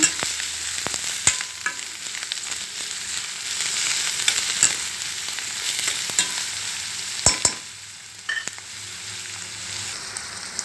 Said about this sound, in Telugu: ఇప్పుడు దొండకాయ ముక్కలు వేసుకుందాం నాటు దొండకాయ ముక్కలు వేసేసుకొని కలుపుకుందాం